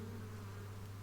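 Steady low hum of honeybees crowding a hive entrance, a continuous drone with no breaks that holds evenly throughout at a constant moderate level, close by.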